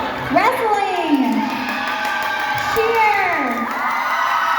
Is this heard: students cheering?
yes